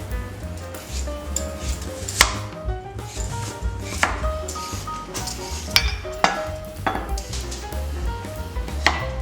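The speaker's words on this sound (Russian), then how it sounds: "То есть все нарезается мелким кубиком." Knife chopping salad ingredients into small cubes on a board, brisk uneven taps close up with a few louder strikes, steady throughout.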